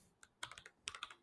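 Quick, light keystrokes on a computer keyboard come in two short clusters, close and soft, with a single tap before each run and no voices.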